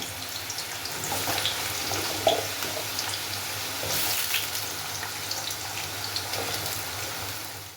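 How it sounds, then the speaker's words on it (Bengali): Potato pieces fry in hot oil in a kadai while an eggplant kofta curry is being made, giving a steady broadband sizzle and crackle throughout with a few brief pops and no talking. "ওখানে ওই কড়াইতে আলু ভাজা হচ্ছে"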